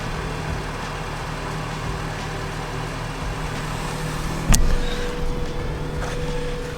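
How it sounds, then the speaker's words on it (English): A Honda CRX engine idles steadily at close range, a low continuous hum with a brief sharp knock or click partway through. "So it's got a nice little idle to it."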